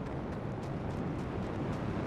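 Explosions in the Mad Max video game, heard as a steady low rumbling roar at moderate level, continuous and without distinct separate blasts.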